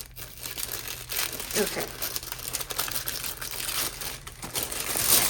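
A sealed planner box package with a sticker is opened, giving close crinkling and crumpling of paper and packaging across the clip. A voice speaks briefly.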